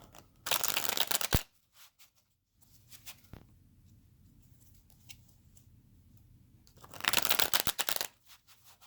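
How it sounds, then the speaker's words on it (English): Tarot cards riffle and flutter in two quick shuffling bursts, crisp and close, separated by quiet rustling. "I'm not going to shuffle too much because I already did before it started."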